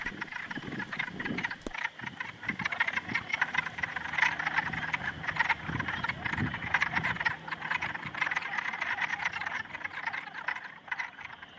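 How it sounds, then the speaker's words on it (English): Dense chorus of spring peeper frogs at a pond, many high piping calls overlapping in a steady, lively stream, fairly close and continuous. "while the spring peepers make their sounds known in the pond"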